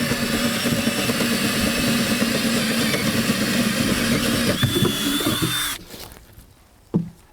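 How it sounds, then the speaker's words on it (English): A power drill bores holes in the bottom of a cargo container, a loud, continuous whine grinding for several seconds, then cutting off, followed by a short clank and quieter background. "I just need to drill a couple of holes in the bottom for water drainage"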